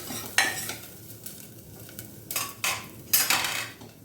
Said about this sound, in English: This onion is also getting fried.